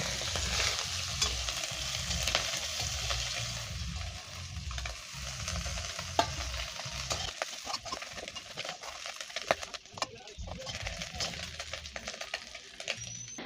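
Small fish frying in hot oil in a pan give off a continuous, fairly quiet sizzle with occasional stirring clatters, heard alone without speech.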